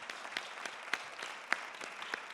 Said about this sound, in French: On peut applaudir Gilles.